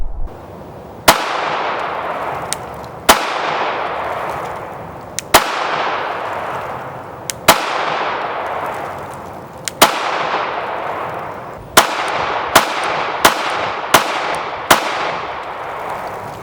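Gunshots from a Sig P365 pistol chambered in .380 ACP: about a dozen loud, sharp cracks, each with a ringing echo tail. The shots are evenly spaced at first, then come in a quicker string toward the end.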